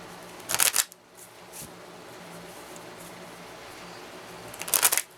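Two short, crisp flurries of Healing Shaman oracle cards being shuffled, one near the start and one near the end. A steady low room hum fills the quiet gap between them.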